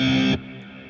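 A short burst of heavily distorted electric guitar chord through a noise-box distortion and an amp-cabinet convolution reverb, cutting off abruptly and leaving a brief boxy reverb tail.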